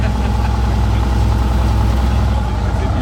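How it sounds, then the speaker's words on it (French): A modified Porsche GT4 sports car warms up among other engines, giving a continuous low, throaty idle rumble at steady loudness. "Les moteurs des voitures commencent à chauffer. Là, on a la GT4 qui chauffe."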